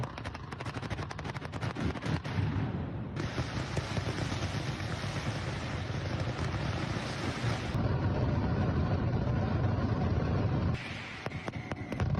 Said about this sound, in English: that was one of the fireworks show